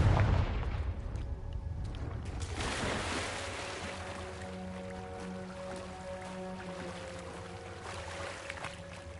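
A Confringo blasting spell in Hogwarts Legacy goes off as a sharp boom at the start and then fades into a long rumbling decay with lingering tonal hum.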